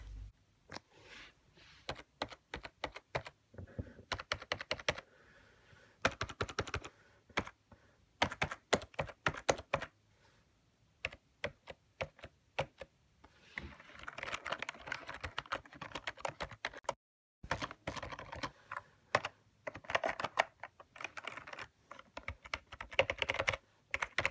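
Rapid typing on a Gamdias mechanical keyboard in bursts of clicky keystrokes, close and crisp, with brief pauses between flurries; no voices.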